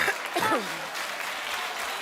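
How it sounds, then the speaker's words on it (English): Studio audience applause on a daytime talk show, a brisk wash of clapping that swells briefly and then carries on at a moderate level, with a voice talking over it early on. "Stop clapping so I can defend myself."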